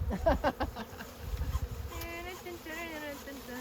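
Honey bees buzz around a propolised log holding a swarm, their drone rising in wavering tones beneath brief speech from people standing close by.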